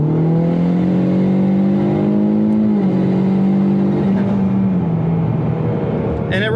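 Tuned turbocharged car engine with its wastegate door held open, loud and screaming as it revs and pulls hard under acceleration, a steady droning tone rising slightly then dropping back, close and continuous, with a brief sharper burst at the end.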